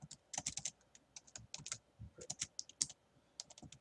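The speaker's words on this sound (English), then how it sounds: "Apologize for my typing." Quiet, uneven typing on a computer keyboard, bursts of crisp key clicks with short pauses between them, heard up close without any voices.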